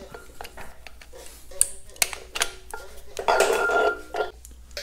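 Metal clinks and rattles of bolts being removed from a Farmall tractor flywheel, several sharp taps and a denser rattling stretch, close by with a voice speaking lightly underneath.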